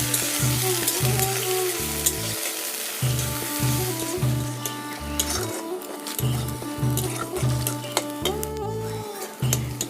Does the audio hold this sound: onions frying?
yes